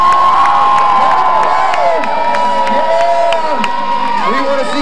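Crowd at a Vans Triple Crown skateboarding contest in Oceanside, California, cheering and whooping loudly and continuously, with high shouts and sharp skateboard clacks cutting through the steady roar.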